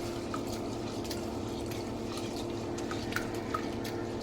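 Moong dal is rinsed in a bowl of water: a steady wet rushing and sloshing with scattered small drips and splashes, close and continuous, without any talk.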